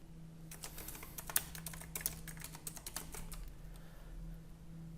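A product review is typed on a computer keyboard in a quick run of soft, close key clicks over a faint steady hum, thinning out toward the end, with no talking.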